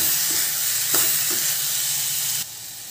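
Onion, tomato and spices frying in a pan for egg bhurji, a steady loud sizzle and hiss with a few soft scrapes of stirring.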